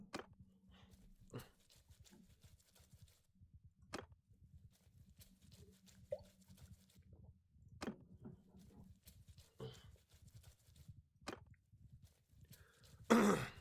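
Repeated short coughs and throat clearing, several sharp separate bursts spread across the stretch, over a soft low clip-clop rhythm from the game Mount & Blade II: Bannerlord, with no talking.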